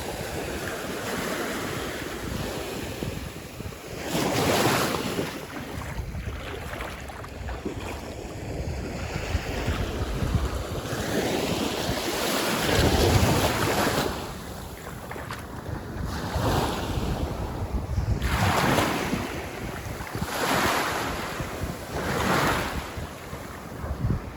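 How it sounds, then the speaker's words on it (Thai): Sea waves break along the Gulf of Thailand shore, surging in repeated rushes of surf every few seconds, mixed with gusty wind buffeting close by. "นี่ทะเลอ่าวไทย"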